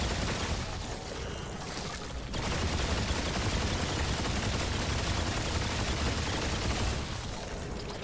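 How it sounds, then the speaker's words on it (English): Gunfire in the video game Remnant 2 pours out as sustained rapid shooting, a loud unbroken stream of shots that briefly shifts in tone before resuming at full intensity. "I'm just shooting this damn thing."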